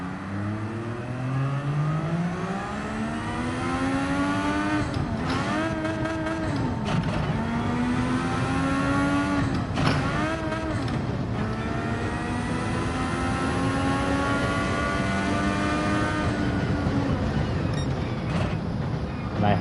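Engine of a Honda MP4/4 Formula One car in Gran Turismo 7, rising in pitch through the gears and dropping sharply on each downshift with throttle blips, loud and steady throughout, no talk.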